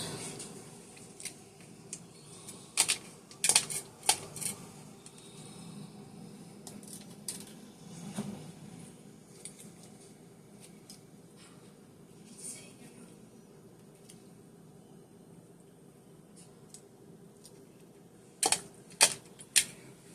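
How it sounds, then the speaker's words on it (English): A knife slices and dices peaches on a cutting board, producing scattered sharp taps and clicks in small bursts with quieter stretches between them, fairly faint overall. "I'm just going to slice down. I'm going to dice them up real good."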